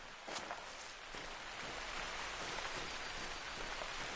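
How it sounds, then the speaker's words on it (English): Steady rain pours down in the hunting game The Hunter: Call of the Wild, a dense, even hiss of drops on the ground that fills the whole stretch without pause, with no voices over it. "maybe the rain is kind of covering my footprints a bit, covering my footsteps"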